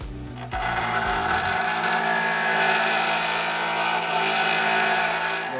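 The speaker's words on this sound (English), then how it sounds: "I like to take and just grind a little flat spot from here to about here so that any oil can run past the upper bushing" A power grinder cuts a small flat spot into a Ford Model T kingpin so oil can pass the upper bushing; a steady, loud, continuous grinding whine runs after a brief start, with no talk.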